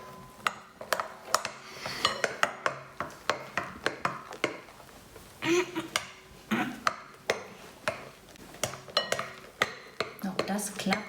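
Homemade slime mixed with little balls and beads is stirred in a bowl, the utensil knocking and scraping in a quick, uneven run of clinks and ticks that carries on for several seconds.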